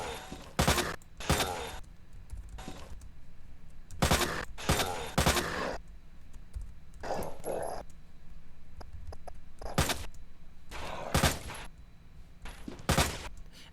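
Gunfire in the Resident Evil 2 Remake game rings out in sharp, loud bursts, about a dozen separate shots spaced unevenly, some in quick pairs, with no talk between them.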